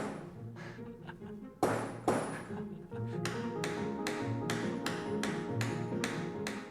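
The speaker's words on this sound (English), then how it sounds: "Glass drop, meet hammer." A hammer strikes a glass drop, a toughened teardrop of glass, with a sharp knock and a ringing ping. Faint tapping follows, then a steady run of evenly spaced taps close to the listener.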